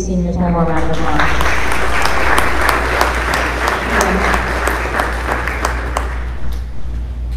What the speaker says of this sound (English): give these seniors one more round of applause.